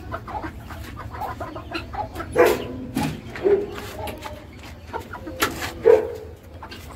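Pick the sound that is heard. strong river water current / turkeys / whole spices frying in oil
turkeys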